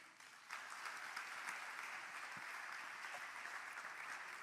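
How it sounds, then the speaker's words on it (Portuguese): Steady applause rises from a church congregation, swelling after a quiet start into a continuous, fairly distant wash of clapping. "Dê um aplauso a Jesus."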